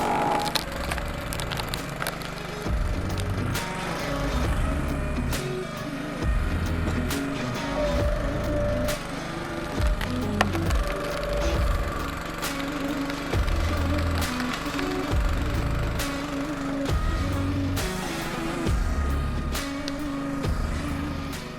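A Split-Fire 2265 log splitter engine runs steadily at three-quarter throttle, a continuous close drone with a rhythmic low pulsing and occasional wood cracks and creaks over it, no voices.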